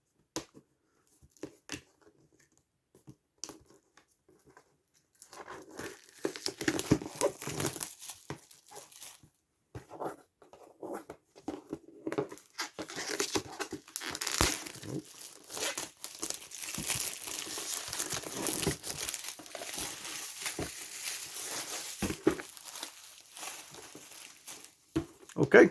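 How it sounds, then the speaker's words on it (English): Plastic wrapping crinkles and tears as it is pulled off a Flame Toys Furai Model Snake Eyes figure, close crackling and rustling that starts sparse and becomes steady and busy for about twenty seconds. "Get the plastic off."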